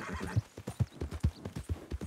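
A horse gallops in a Wild West game, hooves thudding in a quick steady rhythm of about ten close beats, with a neigh at the start.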